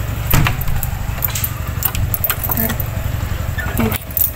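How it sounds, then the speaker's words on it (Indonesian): Metal keys jangle and click in short bursts while a door is locked, close by, over a steady low motorcycle engine idling in the background. "Kunci pintu dulu."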